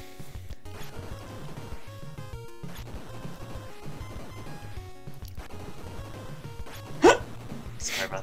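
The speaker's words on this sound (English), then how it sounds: "Sweet hiccup." A single sharp hiccup bursts out close to the microphone during a Power Blade retro video game session, loud and brief over continuous chiptune game music and sound effects.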